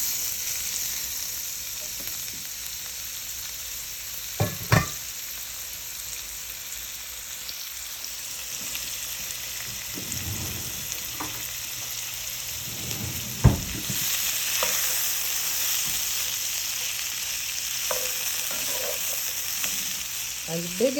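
Root vegetables sauté in melted butter in a large pan, giving a steady, moderate sizzle with occasional louder scrapes and knocks as a utensil stirs them.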